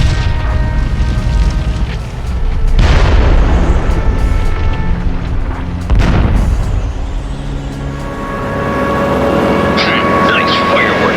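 Explosives detonate in the video game CT Special Forces: Fire for Effect, with heavy booming blasts at several points over a dense rumbling backdrop of game effects and music.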